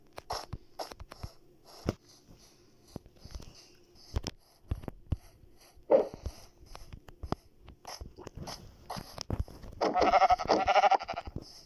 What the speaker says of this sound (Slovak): Ale asi teraz idem zabíjať ovce.